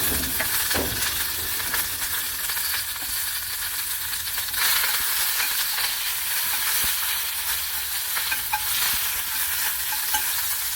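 Mustard seeds, two dried red chillies and curry leaves frying in coconut oil, a steady close crackling sizzle with occasional small pops and stirring scrapes, no voices.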